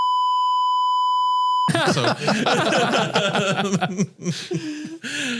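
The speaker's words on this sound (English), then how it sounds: "the first use of our beep to represent hemorrhaging money" A steady electronic sine-tone beep used as a sound effect for hemorrhaging money, sounding alone for over a second before cutting off into people laughing and chuckling.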